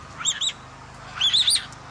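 A parrot in an aviary where the birds breed gives two bursts of high, squeaky chirps, a short pair of calls followed by a longer run of squeaks over a low background hum.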